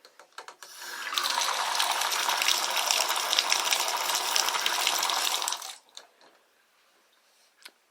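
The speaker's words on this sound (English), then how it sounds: "Running water." Steady broadband rush of running water, like a faucet or shower, starting after a few clicks, holding evenly for about five seconds, then cutting off abruptly.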